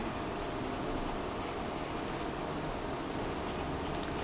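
Steady, faint scratching of pen or pencil on paper while a compound interest formula is written out by hand, a continuous soft rub with no talk.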